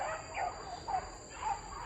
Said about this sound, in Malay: Oh, anjing.